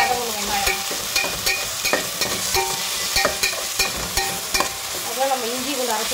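Onions frying in a pan while a spoon stirs them: steady crackling sizzle with repeated scraping and clacking stirs, close and clear, and no talking.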